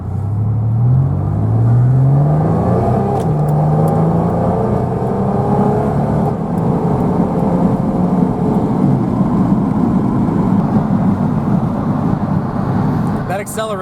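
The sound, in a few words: GMC Syclone truck engine accelerating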